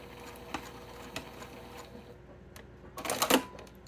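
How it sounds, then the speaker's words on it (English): A sewing machine stitches along a paper piecing line: faint scattered ticks and clicks, then a short close burst of rapid stitching near the end. "Drop my needle. And just sew on down that line."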